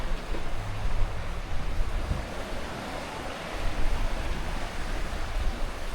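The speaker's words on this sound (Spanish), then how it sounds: "Cómo suenan las olas." Sea waves wash onto the beach at Koh Samet near palm trees and a small stone jetty, a continuous broad roar of surf with some wind rumble, steady and fairly close, with no talking.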